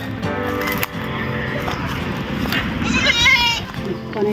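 A goat bleats on a farm, its wavering cries rising near the end over steady outdoor background noise, with people talking nearby.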